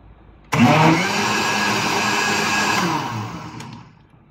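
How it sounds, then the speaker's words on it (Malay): A blender whirs on abruptly, blending an ice cream mixture, running loud and steady for a couple of seconds before winding down and stopping. "Okey, jom kita blender dulu."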